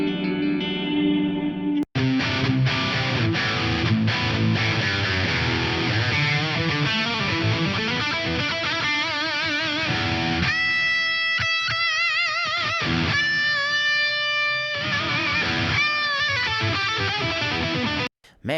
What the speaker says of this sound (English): those echo plates sound so damn good